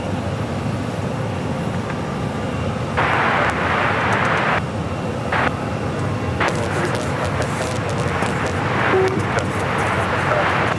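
A one-year-old Airbus A321 airliner arriving from Miami at Phoenix Sky Harbor, a steady broadband jet roar throughout with brief radio chatter bursts laid over it.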